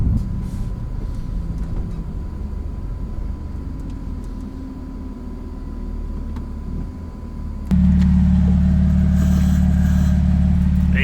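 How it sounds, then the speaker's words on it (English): Idling car exhaust with the exhaust valves open, a low rumble that jumps abruptly into a much louder, deeper drone near the end, heard close up. "That's with the exhaust open, the valves open."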